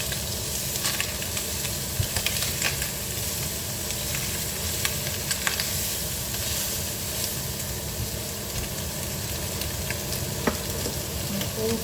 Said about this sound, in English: That's down to probably a low simmer now.